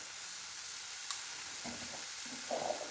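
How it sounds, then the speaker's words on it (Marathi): Hara bhara kabab mixture sautés in a pan with a soft, quiet sizzle, a single small clink and a couple of faint scraping stirs near the end. "आणि आपल्याला चांगली परतून घ्यायची आहे जोपर्यंत ही कोरडी होत नाही तोपर्यंत."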